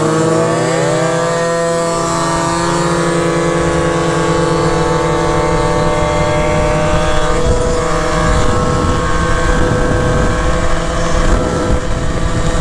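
A Yamaha Zuma scooter with a Polini 70cc kit and an aftermarket pipe ridden fast, its two-stroke engine buzzing loud and close with steady high revs that climb and waver throughout.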